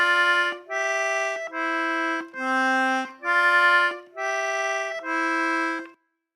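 Frère Jacques played on an Anglo concertina, seven clear reed notes in steady phrases with brief breaks between bellows pushes and draws, played alone with no talking.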